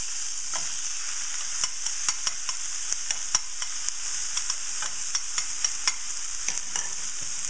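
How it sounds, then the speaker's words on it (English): Tomatoes, olives and roasted peppers sizzle in a pan with garlic. The sound is a steady, fairly quiet hiss broken by scattered sharp pops and crackles throughout. "we're going to throw in the tomatoes, the olives, and the roasted peppers"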